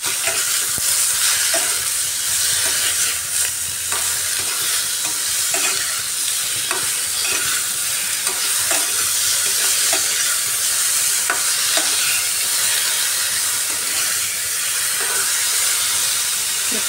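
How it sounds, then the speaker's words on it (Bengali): Vegetables with turmeric and cumin sizzle steadily while being stirred in a hot pan, with a continuous bright frying hiss and occasional scraping of the spatula throughout, no talking. "আবার ভালো করে কষিয়ে নিতে হবে সবজিটাকে।"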